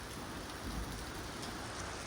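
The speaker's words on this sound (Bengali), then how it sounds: "সৌদির মতন রাষ্ট্রের মধ্যে এরকম বৃষ্টি" Heavy rain pours in Saudi Arabia as a dense, steady hiss of drops on surfaces, continuous and fairly close, with no voices.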